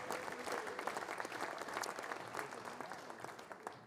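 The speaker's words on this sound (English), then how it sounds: "Give him a big round of applause." Faint, steady applause from an audience at a 2024 awards ceremony, dense clapping sustained throughout with a few voices underneath.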